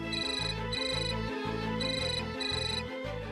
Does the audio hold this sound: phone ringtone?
yes